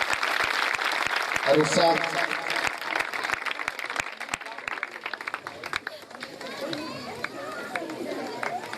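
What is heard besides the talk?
audience applause during prize-giving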